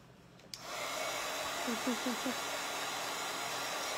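A hair dryer switches on and runs steadily at close range, drying wet paint on a scarecrow-head flowerpot craft project; its constant blowing roar fills the clip with no talk.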